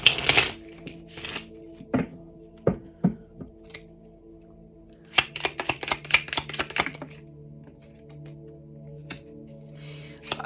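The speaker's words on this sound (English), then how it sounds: "Let me give these cards another shuffle." Tarot cards riffle and snap together in quick bursts, a flurry of crisp slaps followed by scattered taps, close up with no voices.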